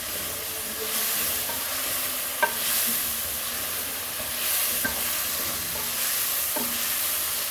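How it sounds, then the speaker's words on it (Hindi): Tomato and other ingredients fry in a pan for lauki sabzi, with a steady sizzling hiss and occasional scraping clicks from a spoon stirring through the mix, close and continuous with no talking. "इन तीनों चीज़ों को हम अच्छी तरह से भून लेंगे पहले"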